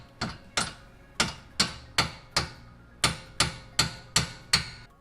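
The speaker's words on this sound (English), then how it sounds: "you're going to want to also tap this bolt backwards a little bit to be able to free the bottom of the strut." A strut bolt on a Nissan 370Z is tapped backwards during a coilover install, heard as about ten sharp, close metallic hammer strikes in a fairly even rhythm, each ringing briefly.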